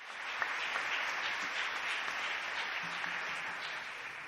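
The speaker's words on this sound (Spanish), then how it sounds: "Un fuerte aplauso a la palabra de Dios." A church congregation at a Divine Mercy Sunday Mass applauds after the Gospel reading, a faint, distant, steady patter of many hands clapping in a large space.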